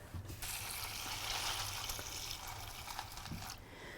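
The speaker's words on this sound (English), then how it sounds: "I'm just going to fill with water." Water running from a tap into a bowl of ice for an ice bath, a steady close hiss and splash lasting several seconds, fairly quiet, with faint clinks and no speech.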